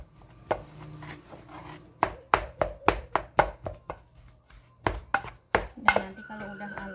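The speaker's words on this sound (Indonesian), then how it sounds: "Kita tumbuk seperti ini dulu ya sampai" Boiled potatoes being mashed by hand in a kitchen, a run of sharp knocks and thuds in quick irregular bursts, close and fairly loud, with quiet pauses between groups.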